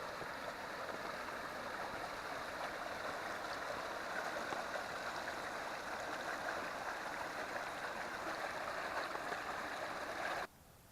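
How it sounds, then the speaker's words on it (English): Steady rushing stream water flows continuously at moderate distance, a soft broadband gurgle that cuts off abruptly near the end. "So it appears the water's running down there"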